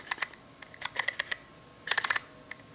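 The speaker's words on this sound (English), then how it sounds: "The aperture control." A camera's aperture control gives crisp mechanical clicks, close and dry, arriving in quick irregular bursts of several detents separated by short pauses.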